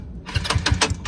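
Talon GSX150R2 small engine sputtering and stalling with fluid in the cylinder, a brief run of uneven rapid chugs and pops lasting about a second before stopping.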